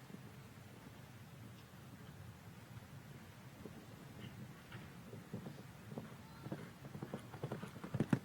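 Horse hooves drumming on the arena footing during a show jumping round at the Longines FEI Jumping Nations Cup Grand Prix in Ocala, with soft, irregular thuds that grow louder and closer toward the end over a steady crowd murmur.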